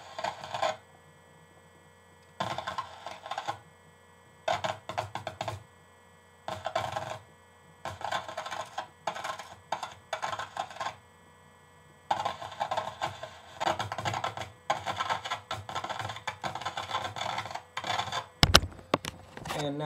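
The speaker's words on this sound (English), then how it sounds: "And now that we have enough grated screw and shredded tinfoil in our mix, right here in our mixing bowl" Grated screw and shredded tinfoil pour into a mixing bowl in repeated bursts of crisp metallic rattling and clinking, separated by silent gaps, close up, ending with a sharp louder clatter.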